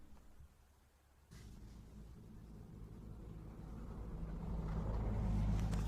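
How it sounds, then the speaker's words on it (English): Guards' cars pass at a distance, making a low, faint rumble that rises slowly and grows louder toward the end. The sound stays quiet throughout, with no talk. "there's some cars passing by that belong to the guards"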